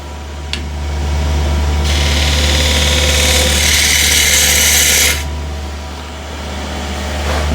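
A half-inch spindle gouge cutting a wooden bowl on a lathe: a steady motor hum underneath, with a loud bright shearing hiss lasting about three seconds as the tool bites into the spinning wood, then easing off.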